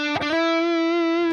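An electric guitar plays a distorted solo phrase, with a quick attack and a slide up into one long, sustained note. It rings out close and alone.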